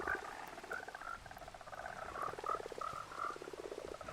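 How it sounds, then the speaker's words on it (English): A large chorus of frogs in the audio game The Vale keeps up steady overlapping croaks and trills, a continuous mid-distance wall of calls with no voices. "I don't like the sound of those frogs."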